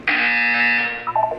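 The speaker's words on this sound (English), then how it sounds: "You will hear a buzzer." A loud, harsh electronic buzzer sounds once in the Portal 2 video game, a steady tone of about a second that breaks into short stuttering pulses as it ends.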